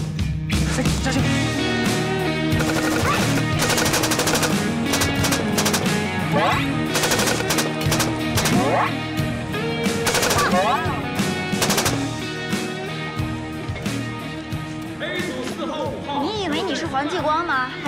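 Rapid bursts of machine-gun fire crackle loudly and continuously through a drama movie action scene, layered with music, shouting and other dense effects.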